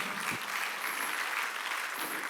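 A church congregation at a Korean Wednesday worship service claps together in a steady, dense wash of applause, distant and even throughout.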